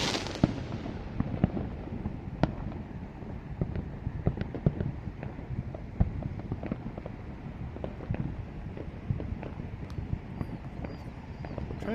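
A city-wide fireworks show for America's 250th anniversary, with a steady stream of distant booms and crackling pops layered over constant outdoor rumble and wind, no talking.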